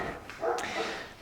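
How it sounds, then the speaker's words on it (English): A single faint dog bark sounds from a distance, brief and muffled against a low background hum. "You can hear that dog barking."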